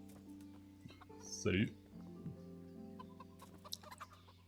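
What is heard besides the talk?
chicken clucking in Kingdom Come Deliverance video game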